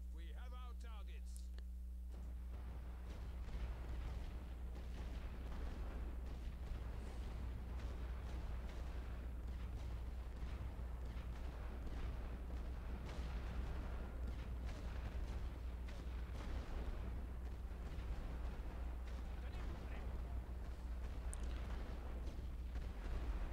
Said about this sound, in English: Be ready, boys, for suppressing barrage.